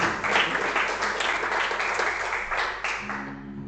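A church congregation at a Portuguese-language communion service applauds in a steady, dense wash of many hands clapping together, sustained and fairly close before tapering off at the end.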